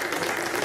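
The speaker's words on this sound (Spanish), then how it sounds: "Un aplauso para ellos," A debate audience claps together in a short, steady burst of applause with no voices standing out.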